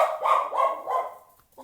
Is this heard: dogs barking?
yes